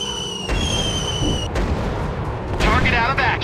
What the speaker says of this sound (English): Target out of action! Dropping bombs!